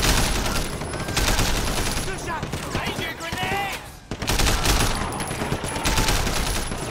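Heavy gunfire in Sleeping Dogs: dense volleys of shots and crackling bursts fill the scene almost nonstop, dipping briefly before resuming, with shouting voices mixed in.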